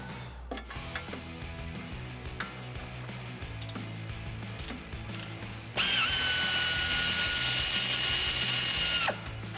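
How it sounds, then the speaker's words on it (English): An air ratchet whirs loudly for about three seconds with a high steady whine during a coil-over suspension install on a 1994-2004 Mustang, preceded by quieter rhythmic mechanical clicking and tool handling. "now let me get my air ratchet in here"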